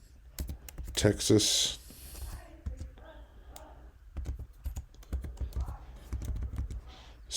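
Computer keyboard typing, a quick run of sharp close clicks in uneven bursts, with someone speaking softly between and over the keystrokes.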